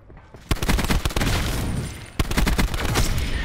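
Rapid automatic gunfire from a weapon in Black Ops 4, loud and close, coming in two sustained bursts separated by a short pause, with dense repeated shots throughout.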